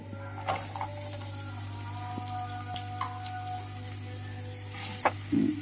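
Chopped onions sizzle in a pan as the first step of Telugu-style upma, a quiet, steady frying hiss with a few soft clicks and stirring scrapes near the end.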